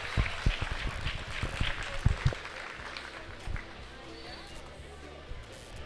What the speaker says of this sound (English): I think we'll give all these members a round of applause